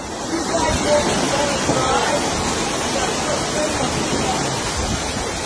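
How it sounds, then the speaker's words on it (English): Torrent of water pouring off the side of the Harmony of the Seas cruise ship, a loud, continuous rushing roar mixed with a crowd's background chatter. "So what exactly happened to cause this waterfall?"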